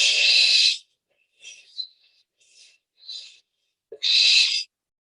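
A barn owl's harsh, breathy hisses play back from a recording: two long, loud screeching hisses at the start and end, with several shorter, softer raspy bursts between them.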